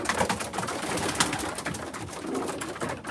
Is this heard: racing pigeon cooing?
yes